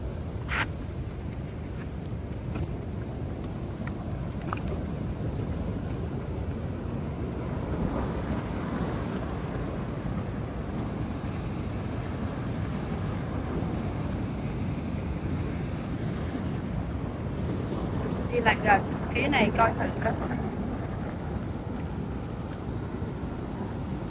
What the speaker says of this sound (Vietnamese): Đây sóng cũng lớn.